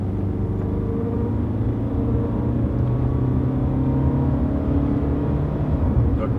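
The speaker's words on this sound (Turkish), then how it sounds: "4000'e kadar böyle dolu çeviriyor motor." An Alfa Romeo 159 with the 1.9 JTD 150-horsepower diesel pulls while driving, its engine drone a steady, close, low rumble with a slight rise in pitch and no talk over it.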